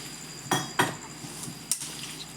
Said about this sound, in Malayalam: ഇനി മീനിട്ട് ഇളക്കി വെക്കുകയാണ്.